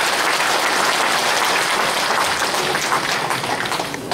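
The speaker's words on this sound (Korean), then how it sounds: "여러분 뜻을 함께 한다는 의미로 큰 박수를 부탁드립니다" Loud, sustained applause from an audience at the founding convention of a Korean national alliance for decentralized constitutional reform, a dense continuous clatter of many hands that tapers slightly at the end.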